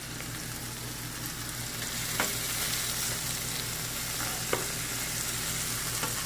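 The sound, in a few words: keto quesadilla frying in a pan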